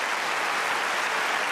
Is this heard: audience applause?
yes